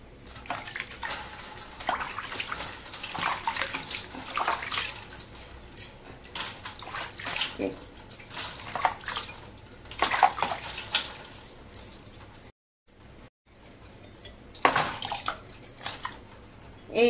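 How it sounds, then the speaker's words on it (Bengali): Utensils are washed under a running tap, with a steady close stream of water splashing over metal pots and dishes, a brief pause midway, then washing and splashing again. "আমি ধুয়ে আপনাদেরকে দেখাচ্ছি"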